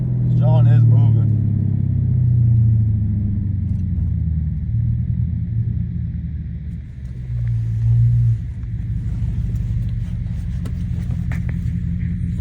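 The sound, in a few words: Dodge 6.4 SRT8 engine running, suspected exhaust leak or lifters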